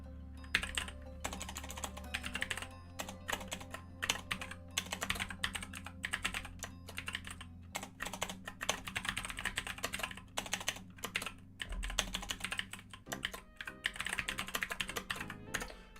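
Continuous rapid typing on a computer keyboard during JavaScript and Python coding, with dense irregular clicks running throughout over a low background hum.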